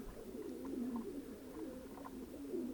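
Pigeons released outdoors in the snow coo softly in repeated low, burbling phrases, faint and steady against a quiet background.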